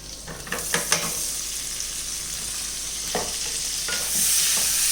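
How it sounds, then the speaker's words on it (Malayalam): Paneer sautéing in melted butter crackles in a steady close sizzle, with clusters of spatula stirs and scrapes near the start and again toward the end. "ഇതിലേക്ക് നമുക്ക് പനീർ ഇട്ടിട്ട് ഒന്ന് സോട്ട് ചെയ്തെടുക്കാം"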